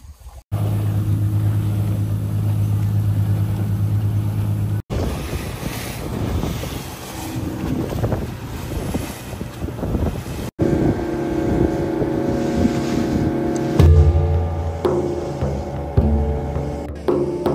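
A fishing speedboat heading out to sea before dawn in a Papua village for tuna gives a loud, steady engine roar with wind buffeting the mic, cut by a few short breaks and shifting pitch as it throttles.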